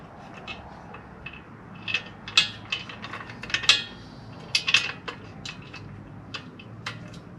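A screw being driven back into a Lectric 3.0 brake during a recall repair, heard as irregular small metallic clicks and ratcheting ticks that bunch into brief flurries. The sounds are close and moderately loud against a quiet room.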